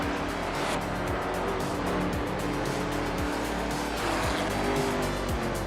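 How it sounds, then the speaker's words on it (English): A 1968 Pontiac Firebird muscle car in a racing video game roars continuously at close range, with engine pitch rising and dropping through gear shifts and faint tire squeal over a steady, dense racing din. "1968 Pontiac Firebird, a classic muscle car known for its power and style."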